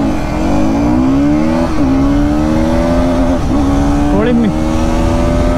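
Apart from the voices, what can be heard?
KTM Duke 200 and Pulsar NS200 accelerating in drag race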